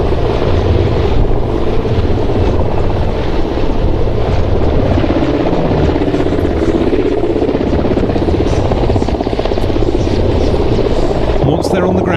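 Mi-171 military helicopter hovering during a fast rope deployment at an air show, its rotors throbbing loudly and continuously close by, with wind buffeting the microphone and voices faintly underneath.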